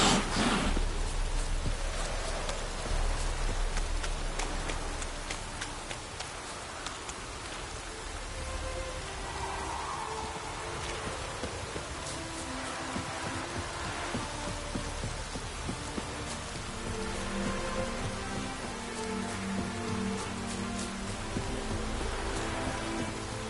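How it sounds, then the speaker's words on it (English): Steady rain falls in The Witcher 3: Wild Hunt, a dense constant hiss of drops on surfaces lasting throughout, with a soft low throb and faint game ambience beneath and no talk. "Looked like it would rain, and here it is."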